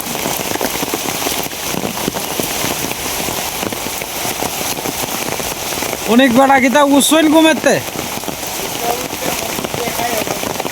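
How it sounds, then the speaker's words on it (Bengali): A heavy rain downpour keeps up a loud, steady patter throughout, while someone speaks briefly over it partway through. "এই বৃষ্টি কোন সময় থামে"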